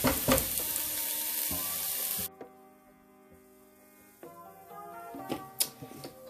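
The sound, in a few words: vegetables sautéing in a pan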